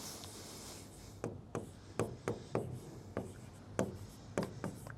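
Pen writing out a maths solution on paper or a board, a series of distinct short scratchy strokes in an irregular rhythm, close and fairly quiet, with no talking.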